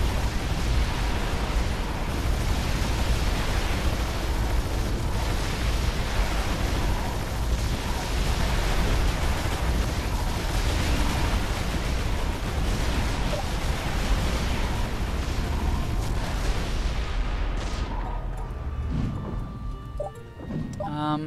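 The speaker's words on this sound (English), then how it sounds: "Should be a lot easier with two big cannon towers." Cannon towers in the video game Defense Grid 2 firing, producing a dense, loud, continuous rumble of overlapping explosions that fades out near the end.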